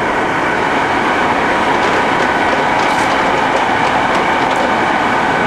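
A 1978 Cincinnati Milacron Model 550-25 VerciPower bed-type vertical mill running its table feed with the spindle at about 440 RPM, a loud continuous mechanical rumble and grind with faint rhythmic clicking.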